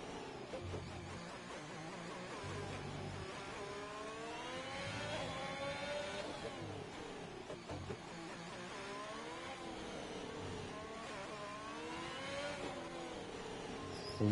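Ferrari Formula 1 car engine in the F1 2021 racing game at Singapore, a steady high-pitched whine with rising and falling revs through gear changes, loud and continuous with other cars mixed in.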